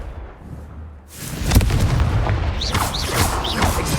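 A spell in Hogwarts Legacy sets off a loud, booming fiery blast after a quiet moment, followed by crackling debris and whooshing magical effects.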